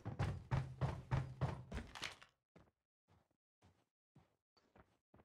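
Weapon reload in Call of Duty: a dense run of rapid mechanical clicks and thunks, then a string of sparse, quiet metallic taps and clacks.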